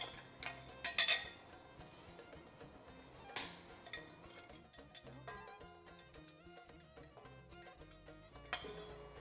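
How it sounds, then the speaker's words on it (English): A spoon clinks against a bowl while warmed milk is stirred for homemade yogurt, faint scattered taps and scrapes, quiet and close, with a few brighter clinks. "We're going to give it a stir."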